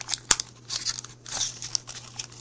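Origami paper being folded into a scooter model, giving quick close crinkles and crisp creasing rustles in short, uneven bursts with brief pauses between them.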